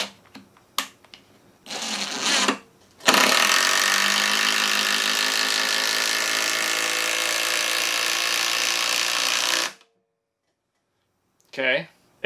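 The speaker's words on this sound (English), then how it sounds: "we're just going to swap out the drill for the impact. We have three different sizes of lag bolts." A Black & Decker Matrix impact driver drives a lag bolt into wood: a loud, continuous rattling hammer-whir lasting about seven seconds after a few short trigger bursts, then stops abruptly, with brief voices near the end.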